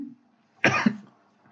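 A single short cough from a nearby man, a quick burst followed by a brief tail, with quiet room tone before and after.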